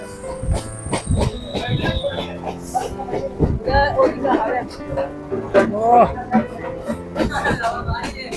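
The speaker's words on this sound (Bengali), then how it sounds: "ইডেন গার্ডেন স্টেশনে ট্রেন দাঁড়ালো" A Kolkata Circular Rail train pulling into Eden Gardens station beside the Ganges, with rumbling wheels, clatter and a brief squeal under close, continuous talking.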